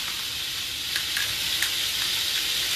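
Salmon fillets sizzle steadily in a hot frying pan, a continuous bright crackling hiss with small pops, close and fairly loud, with no talk over it.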